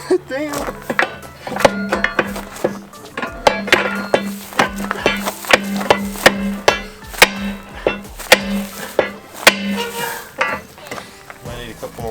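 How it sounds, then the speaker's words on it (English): Repeated hard whacks on a stuck part of a GMC truck, a dozen or so sharp metallic blows in irregular rhythm at close range, with a low hum underneath and voices between strikes. "Might need a couple more whacks."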